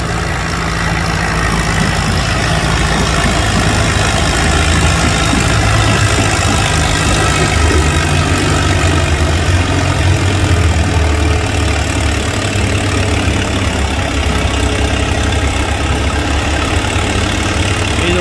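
A Farmall M tractor at a county fair tractor pull, its engine roaring loud and steady at high load for the whole stretch, a continuous heavy drone with no breaks.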